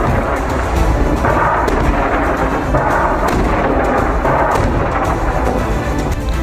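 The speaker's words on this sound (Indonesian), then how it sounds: "Serangan roket dan peluru artileri Hizbullah menyasar konsentrasi pasukan Israel." Hezbollah rocket and artillery fire aimed at Israeli troop concentrations in southern Lebanon, a continuous heavy rumble of booms and blasts that rolls like thunder and stays loud throughout.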